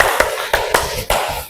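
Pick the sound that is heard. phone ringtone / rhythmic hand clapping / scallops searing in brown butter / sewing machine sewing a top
rhythmic hand clapping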